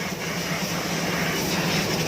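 Compressed air blowing hard through the economizer tubes in a ship's engine room, a loud, steady hiss and roar with no break.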